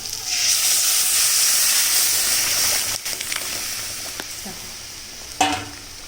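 Mung dal tipped into hot oil in a pan sizzles steadily with a bright, hissing fry, with a few scraping stirs near the end and a sharper burst as the lentils hit the fat.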